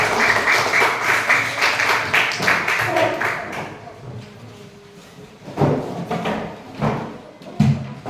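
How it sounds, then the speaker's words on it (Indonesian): A classroom group is applauded with a short burst of loud, dense clapping that fades after a few seconds, followed by scattered louder claps and voices. "Oke, beri aplaus dulu pada kawan kita."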